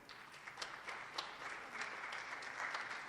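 Audience applause at a high school Poetry Out Loud competition, a steady wash of clapping from a crowd with a few sharper individual claps standing out, moderately loud and continuous throughout.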